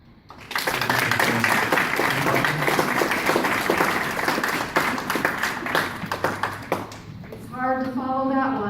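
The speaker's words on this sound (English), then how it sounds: "Another round of applause, please." Audience applause at a Native American voters league gathering, a loud burst of dense clapping that fades after several seconds as a voice begins speaking.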